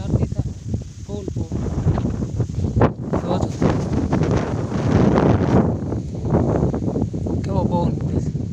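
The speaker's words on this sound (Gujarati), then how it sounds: "પવન બહુ જોરદાર છે." Strong wind blowing across an onion field during weeding, a steady loud roar and buffeting on the microphone with rustling, lasting throughout with no clear speech.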